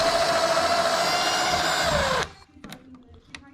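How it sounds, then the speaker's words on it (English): A power drill backs long screws out of a dimmer switch, giving a close, steady motor whine that winds down and stops. Light clicks and handling noises follow. "I like to use a drill for this because these screws are pretty long."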